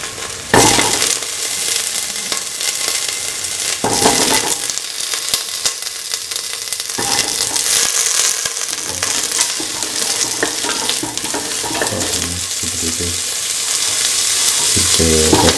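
Potatoes fry in a hot pan with a loud, continuous sizzle, broken by stirring and scraping bursts as they are moved around, no talking.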